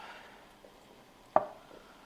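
A knife cuts a marinated egg in half for chicken shoyu ramen, landing as a single soft tap on the board in an otherwise quiet kitchen.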